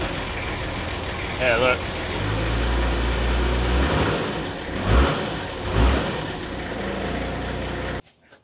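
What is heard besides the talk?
turbocharged car engine starting and revving for the first time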